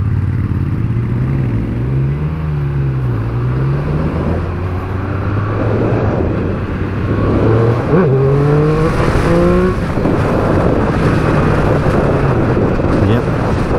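A 2021 Triumph Speed Triple 1200 RS motorcycle revs loudly with rising and falling engine pitch as the rider pulls a wheelie, mixed with heavy wind rush at the onboard microphone and occasional talk.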